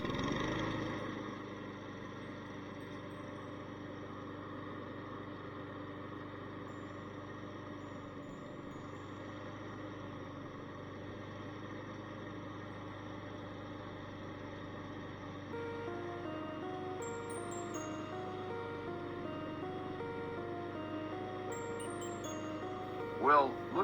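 A Honda HRR216 push lawn mower engine runs at a steady, even drone close by, holding one pitch throughout with a slightly busier tone near the end.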